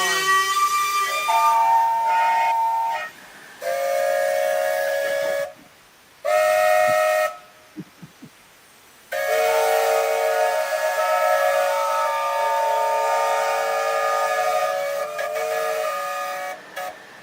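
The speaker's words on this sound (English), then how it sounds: "Whistle time." A loud multi-tone steam-style whistle sounds in a shed, several long chordal blasts broken by short silences, with no talking.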